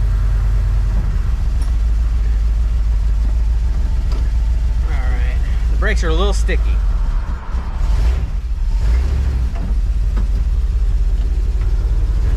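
A 1973 Dodge W200 truck with a 360 V8 fires up and settles into a loud, steady low rumble that runs throughout, with a person talking close by over it.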